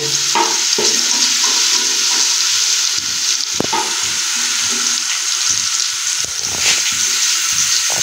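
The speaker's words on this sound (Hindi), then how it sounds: "तो इसमें सबसे पहले हम लहसुन और अदरक का पेस्ट डालेंगे। इसे हल्का ब्राउन करेंगे।" Garlic and ginger paste sizzles steadily in a hot pan for a dal recipe, a continuous close frying hiss with occasional stirring clinks and scrapes, no talking.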